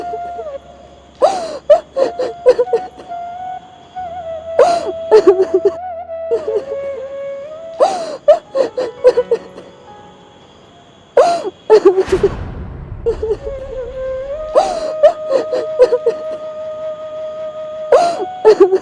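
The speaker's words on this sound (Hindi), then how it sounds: "किसी के रोने की आवाज़ आ रही है वहाँ से।" A woman cries loudly and close by, in repeated bursts of sobbing gasps and wavering whimpers that stop and start over several seconds, with shaky breaths between them.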